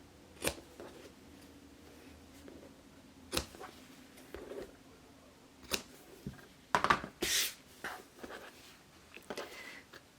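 Scissors make sharp, scattered snips clipping the corners of sewn fabric for a face mask keychain case, with a few quick clustered cuts and quiet handling between.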